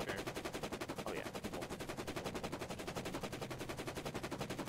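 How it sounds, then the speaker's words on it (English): Rapid automatic gunfire from a video game with dozens of players online, firing in a steady unbroken burst for the whole stretch and fairly loud throughout. "There's someone's gun still going off here."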